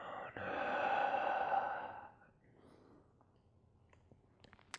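During a half pigeon yoga pose, one long audible exhale runs for about two seconds, followed by quiet stillness with a few faint clicks.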